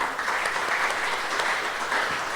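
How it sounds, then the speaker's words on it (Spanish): A congregation at a church service gives sustained, dense applause for the young people who led the program, a steady wash of many hands clapping at even volume with no break. "A ver, un aplauso, por favor"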